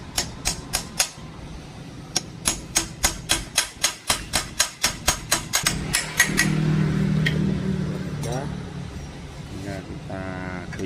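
A flathead screwdriver is struck repeatedly with a hammer to pry out the front fork seal of a Jupiter MX motorcycle, giving a steady series of sharp metallic taps for several seconds, then a scraping, rattling pry with a voice speaking nearby.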